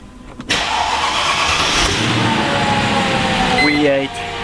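A Mercedes S210 E43 4matic with a V8 engine cranks and catches, settling into a smooth, fairly loud idle with a slight rev, heard close up.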